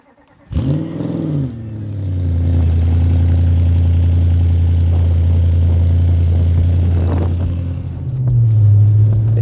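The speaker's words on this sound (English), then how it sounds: "This car sounds really good too." An Audi S6 with a custom exhaust fires up and settles into a loud, deep, throaty idle, with a brief rev at the end. Close and alone, with no talking.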